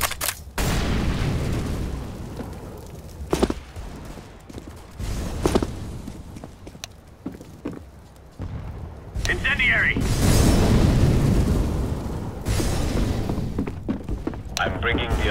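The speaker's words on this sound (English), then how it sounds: "Incendiary." Incendiary grenade in Counter-Strike: Global Offensive, with heavy booms and thuds followed by a sustained roaring burn mid-clip, mixed with in-game gunfire and footsteps and voices talking.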